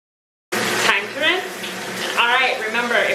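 Water starts abruptly and runs steadily while hair is rinsed on wash day, a close, full gushing splash that continues without pause, with some tonal, voice-like overtones mixed in.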